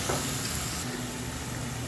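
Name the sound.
onion sautéing in a pan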